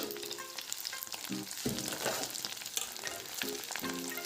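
Potatoes, capsicum and onion frying in hot oil in a wok, a steady close sizzle with occasional bursts of stirring and scraping, no talk.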